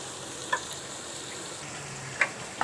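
Potatoes going into a pan of sizzling garlic and dried coriander, a steady soft frying hiss throughout, broken by a few small clicks and taps of a spoon.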